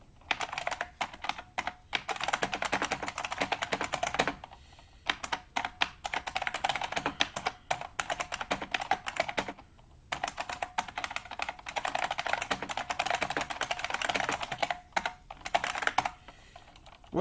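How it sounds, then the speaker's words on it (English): Typing on a Unicomp EnduraPro buckling spring keyboard produces rapid, loud clacky keystrokes in steady bursts, close up, with brief pauses between runs. "let me open up Word here, and we'll type on the keyboard, shall we?"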